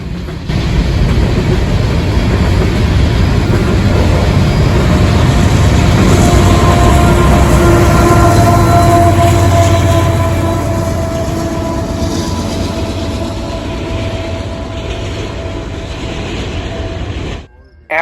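An empty coal train led by a rebuilt GE AC6000CW locomotive, now classed as a C44ACM, rumbles loudly past close by, its steady wheel clatter and engine drone sustained for the whole pass before cutting off abruptly.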